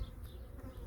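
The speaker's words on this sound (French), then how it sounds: "Vous êtes sous la combinaison, vous entendez tac, tac, tac." Agitated honeybees buzz and strike the beekeeper's protective suit during a hive visit before bad weather, a dense, close, continuous insect drone with no talking.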